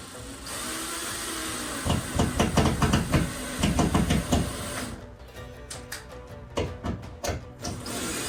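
A power screwdriver drives screws into a wobbly wall during a display build, with bursts of whirring and ratcheting clicks over a constant background hum, then a few sharper taps and knocks.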